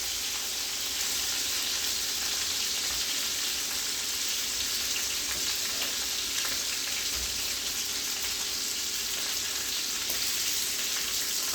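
Beef short ribs browning in a hot pan give a steady, continuous sizzle and crackle that holds an even loudness throughout, with no voices.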